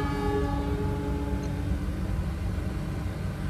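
The Purwojaya executive train moves off again from a stop on the Cilacap–Jakarta line, its steady rolling rumble filling the clip while fading horn tones trail away in the first second.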